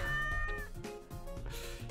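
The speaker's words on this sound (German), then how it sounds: "Mit F kann man miauen." A cartoonish cat meow from the video game Catlateral Damage, a short, fairly quiet mewing call set against soft game background sound, with no talking.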